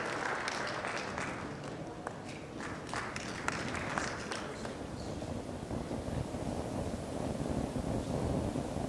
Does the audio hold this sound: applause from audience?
yes